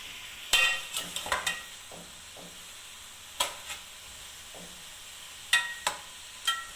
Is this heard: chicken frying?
yes